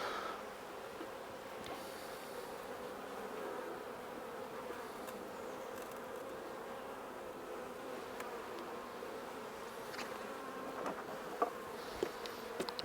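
Swarm of honeybees droning steadily around an open nuc box, a dense continuous hum close by with a few louder bees passing near toward the end.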